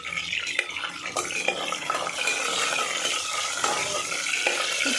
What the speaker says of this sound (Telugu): ఆయిల్ హీట్ అయిన తర్వాత పోపు దినుసులు వేసుకోవాలి